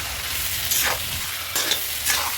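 Marinated goat mutton hits hot oil in a wok with bay leaf, cumin and green chillies, giving a loud, steady close-up sizzle with a few bursts of stirring and spatter.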